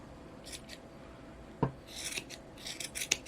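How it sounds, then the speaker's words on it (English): Scissors snip and rasp through yarn up close, a run of soft quick cuts with one sharper click, fairly quiet and with no talk. "I went crazy with the scissors there"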